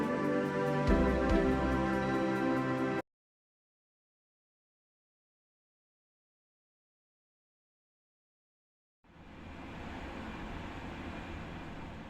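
A CAF Sprinter New Generation 3-car electric multiple unit runs in Train Sim World 6, with a tonal whine and hum, then a dead silent gap of several seconds, then a broad steady rolling rumble.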